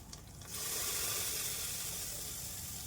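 Chopped, washed vegetables drop into a hot pan of tempering for masale bhat rice. After a quiet start, a sudden loud, steady sizzling hiss bursts up and holds, with no voices.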